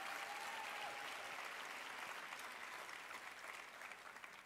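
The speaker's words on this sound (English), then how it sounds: "So give Gloria a round of applause" Audience applause at a lecture series event, a full room clapping steadily, fairly distant and even, tapering slightly toward the end.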